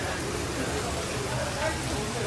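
Steady heavy rain hisses down nearby at a resort in a dense, even wash of patter, with muffled voices faintly underneath.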